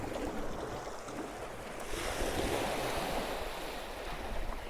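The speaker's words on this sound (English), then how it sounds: "You see the water splashing about." Sea water splashing and washing against the Rossall sea wall on a beach, a steady broadband wash that swells louder midway through, with wind noise buffeting the microphone throughout.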